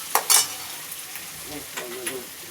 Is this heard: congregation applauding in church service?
no